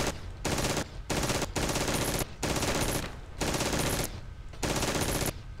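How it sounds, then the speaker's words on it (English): Mounted turret in the video game Red Faction firing in long sustained bursts at barrels, loud rapid automatic gunfire broken by short pauses, with no talk. "Pretend the barrels are guards and take them out with this turret."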